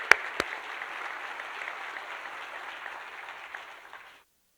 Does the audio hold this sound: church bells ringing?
no